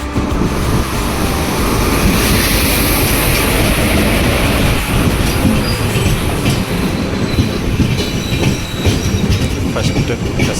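The Narayanadri Superfast Express rumbles past at speed with a steady, loud roar, rattling carriages, rhythmic wheel clatter and high metallic squeals, continuous throughout.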